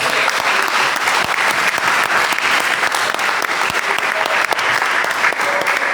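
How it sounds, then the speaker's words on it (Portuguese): A church congregation applauds in praise, a loud, dense, sustained wash of clapping from many hands filling the room without letup, with faint voices mixed in. "Vamos aplaudir ao Senhor Jesus"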